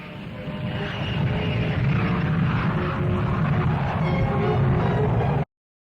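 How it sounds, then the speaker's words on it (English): Military P-80 jet fighter aircraft flying during Korean War combat operations, a loud steady roaring engine drone that swells slightly and holds for several seconds before cutting off abruptly. "P-80 jet fighters have smashed at communist batteries and tank columns in South Korea."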